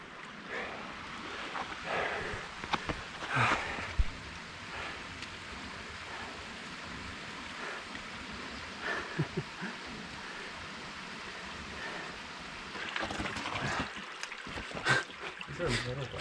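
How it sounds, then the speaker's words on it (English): Water runs down a steep rock slide on Whiteface Mountain in the Adirondacks, a steady broadband rush heard throughout beneath wind, breathing and intermittent talk. "There's a waterfall running down this thing."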